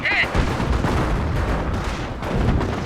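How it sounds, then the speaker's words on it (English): Small arms gunfire rattles in Company of Heroes as a steady mix of rifle and machine gun bursts over a dense, rumbling battle din, loud and continuous, with commentary talking over it. "So you can see these small arms deal a small amount of damage to this M20"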